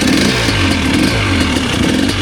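A KOVI 330 Pro two-stroke motorcycle engine runs up close, giving a steady, buzzy and slightly rattly drone that holds level throughout with no voices over it.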